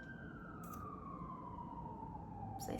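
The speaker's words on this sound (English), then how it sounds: "There's a siren. I hope you don't hear that." An emergency vehicle siren passes outside, a single long tone sliding slowly downward as it moves away, faint and distant behind a quiet room.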